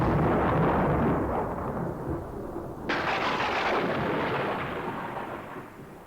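Thunder from an electrical storm: a sustained, heavy low rumble that swells with a sharper crack about halfway through, then rolls on steadily, loud and close, with no voices.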